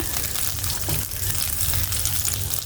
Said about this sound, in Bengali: আমি এখন এগুলো ভেজে নিব ঘিয়ে ভাজলে অবশ্য টেস্টি লাগে